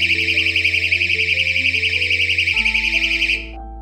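A battery-powered portable door stop alarm blaring right up close, a loud, piercing warbling siren held steadily for about three seconds before it cuts off abruptly.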